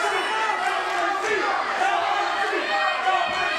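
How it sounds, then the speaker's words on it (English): Arena crowd in the wrestling video game Super Shogun Wrestling chanting in a steady, dense roar of voices, continuous and fairly loud throughout. "And the crowd chanting, no mercy."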